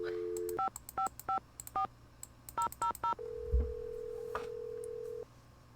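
Touch-tone keypad dialing in the Nancy Drew game Secret of the Scarlet Hand: a quick series of crisp DTMF beeps in two bursts, followed by a steady tone on the line, fairly quiet and clean with no talking.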